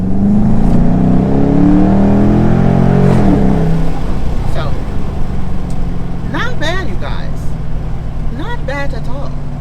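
A 2021 Dodge fitted with a cold air intake and throttle body spacer drones steadily in sport mode on a back road, loud and continuous, with the engine pitch sweeping up then dropping partway through while voices talk over it.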